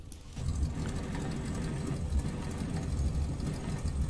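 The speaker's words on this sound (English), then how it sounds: "Have to play with my throttle to keep that engine going." A small model engine on a DC Designs Stearman biplane runs steadily at low throttle near the ground, a buzzy, slightly uneven drone with a low rumble that holds throughout.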